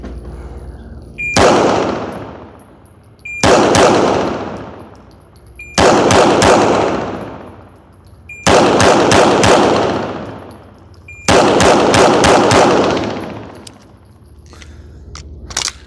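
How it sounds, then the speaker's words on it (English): Loud bursts of rapid gunfire from an aggressive shooting drill, five separate strings of quick shots spaced a couple of seconds apart, each ringing out and decaying outdoors with no talking. "it is aggressive shooting"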